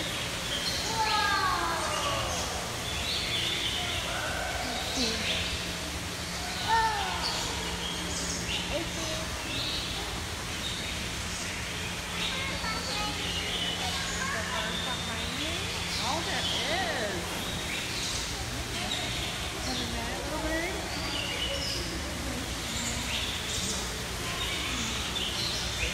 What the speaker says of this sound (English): There's all different kinds of birds.